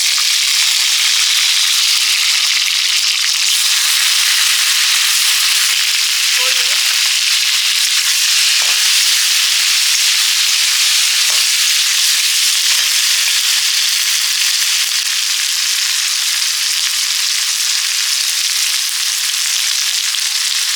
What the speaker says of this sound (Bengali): মাংসটা একটু ভাজা ভাজা হলে